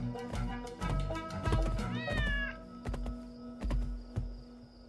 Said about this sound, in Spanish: se ocupe de que duerma bien con sus maullidos